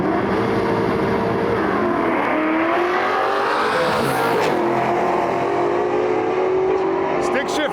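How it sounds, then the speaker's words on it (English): A nitrous Mustang and a Firebird at a drag strip, their engines droning steadily with shifting pitch through the whole stretch, loud and continuous, with a brief higher burst near the end and voices faintly around. "Nitrous Mustang in our lane, far side of the track, a Firebird."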